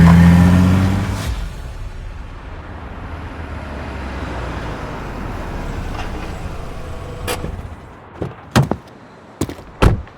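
A car door slams loudly, then the vehicle's engine hums as it pulls away and fades, followed by a few sharp knocks and thuds near the end.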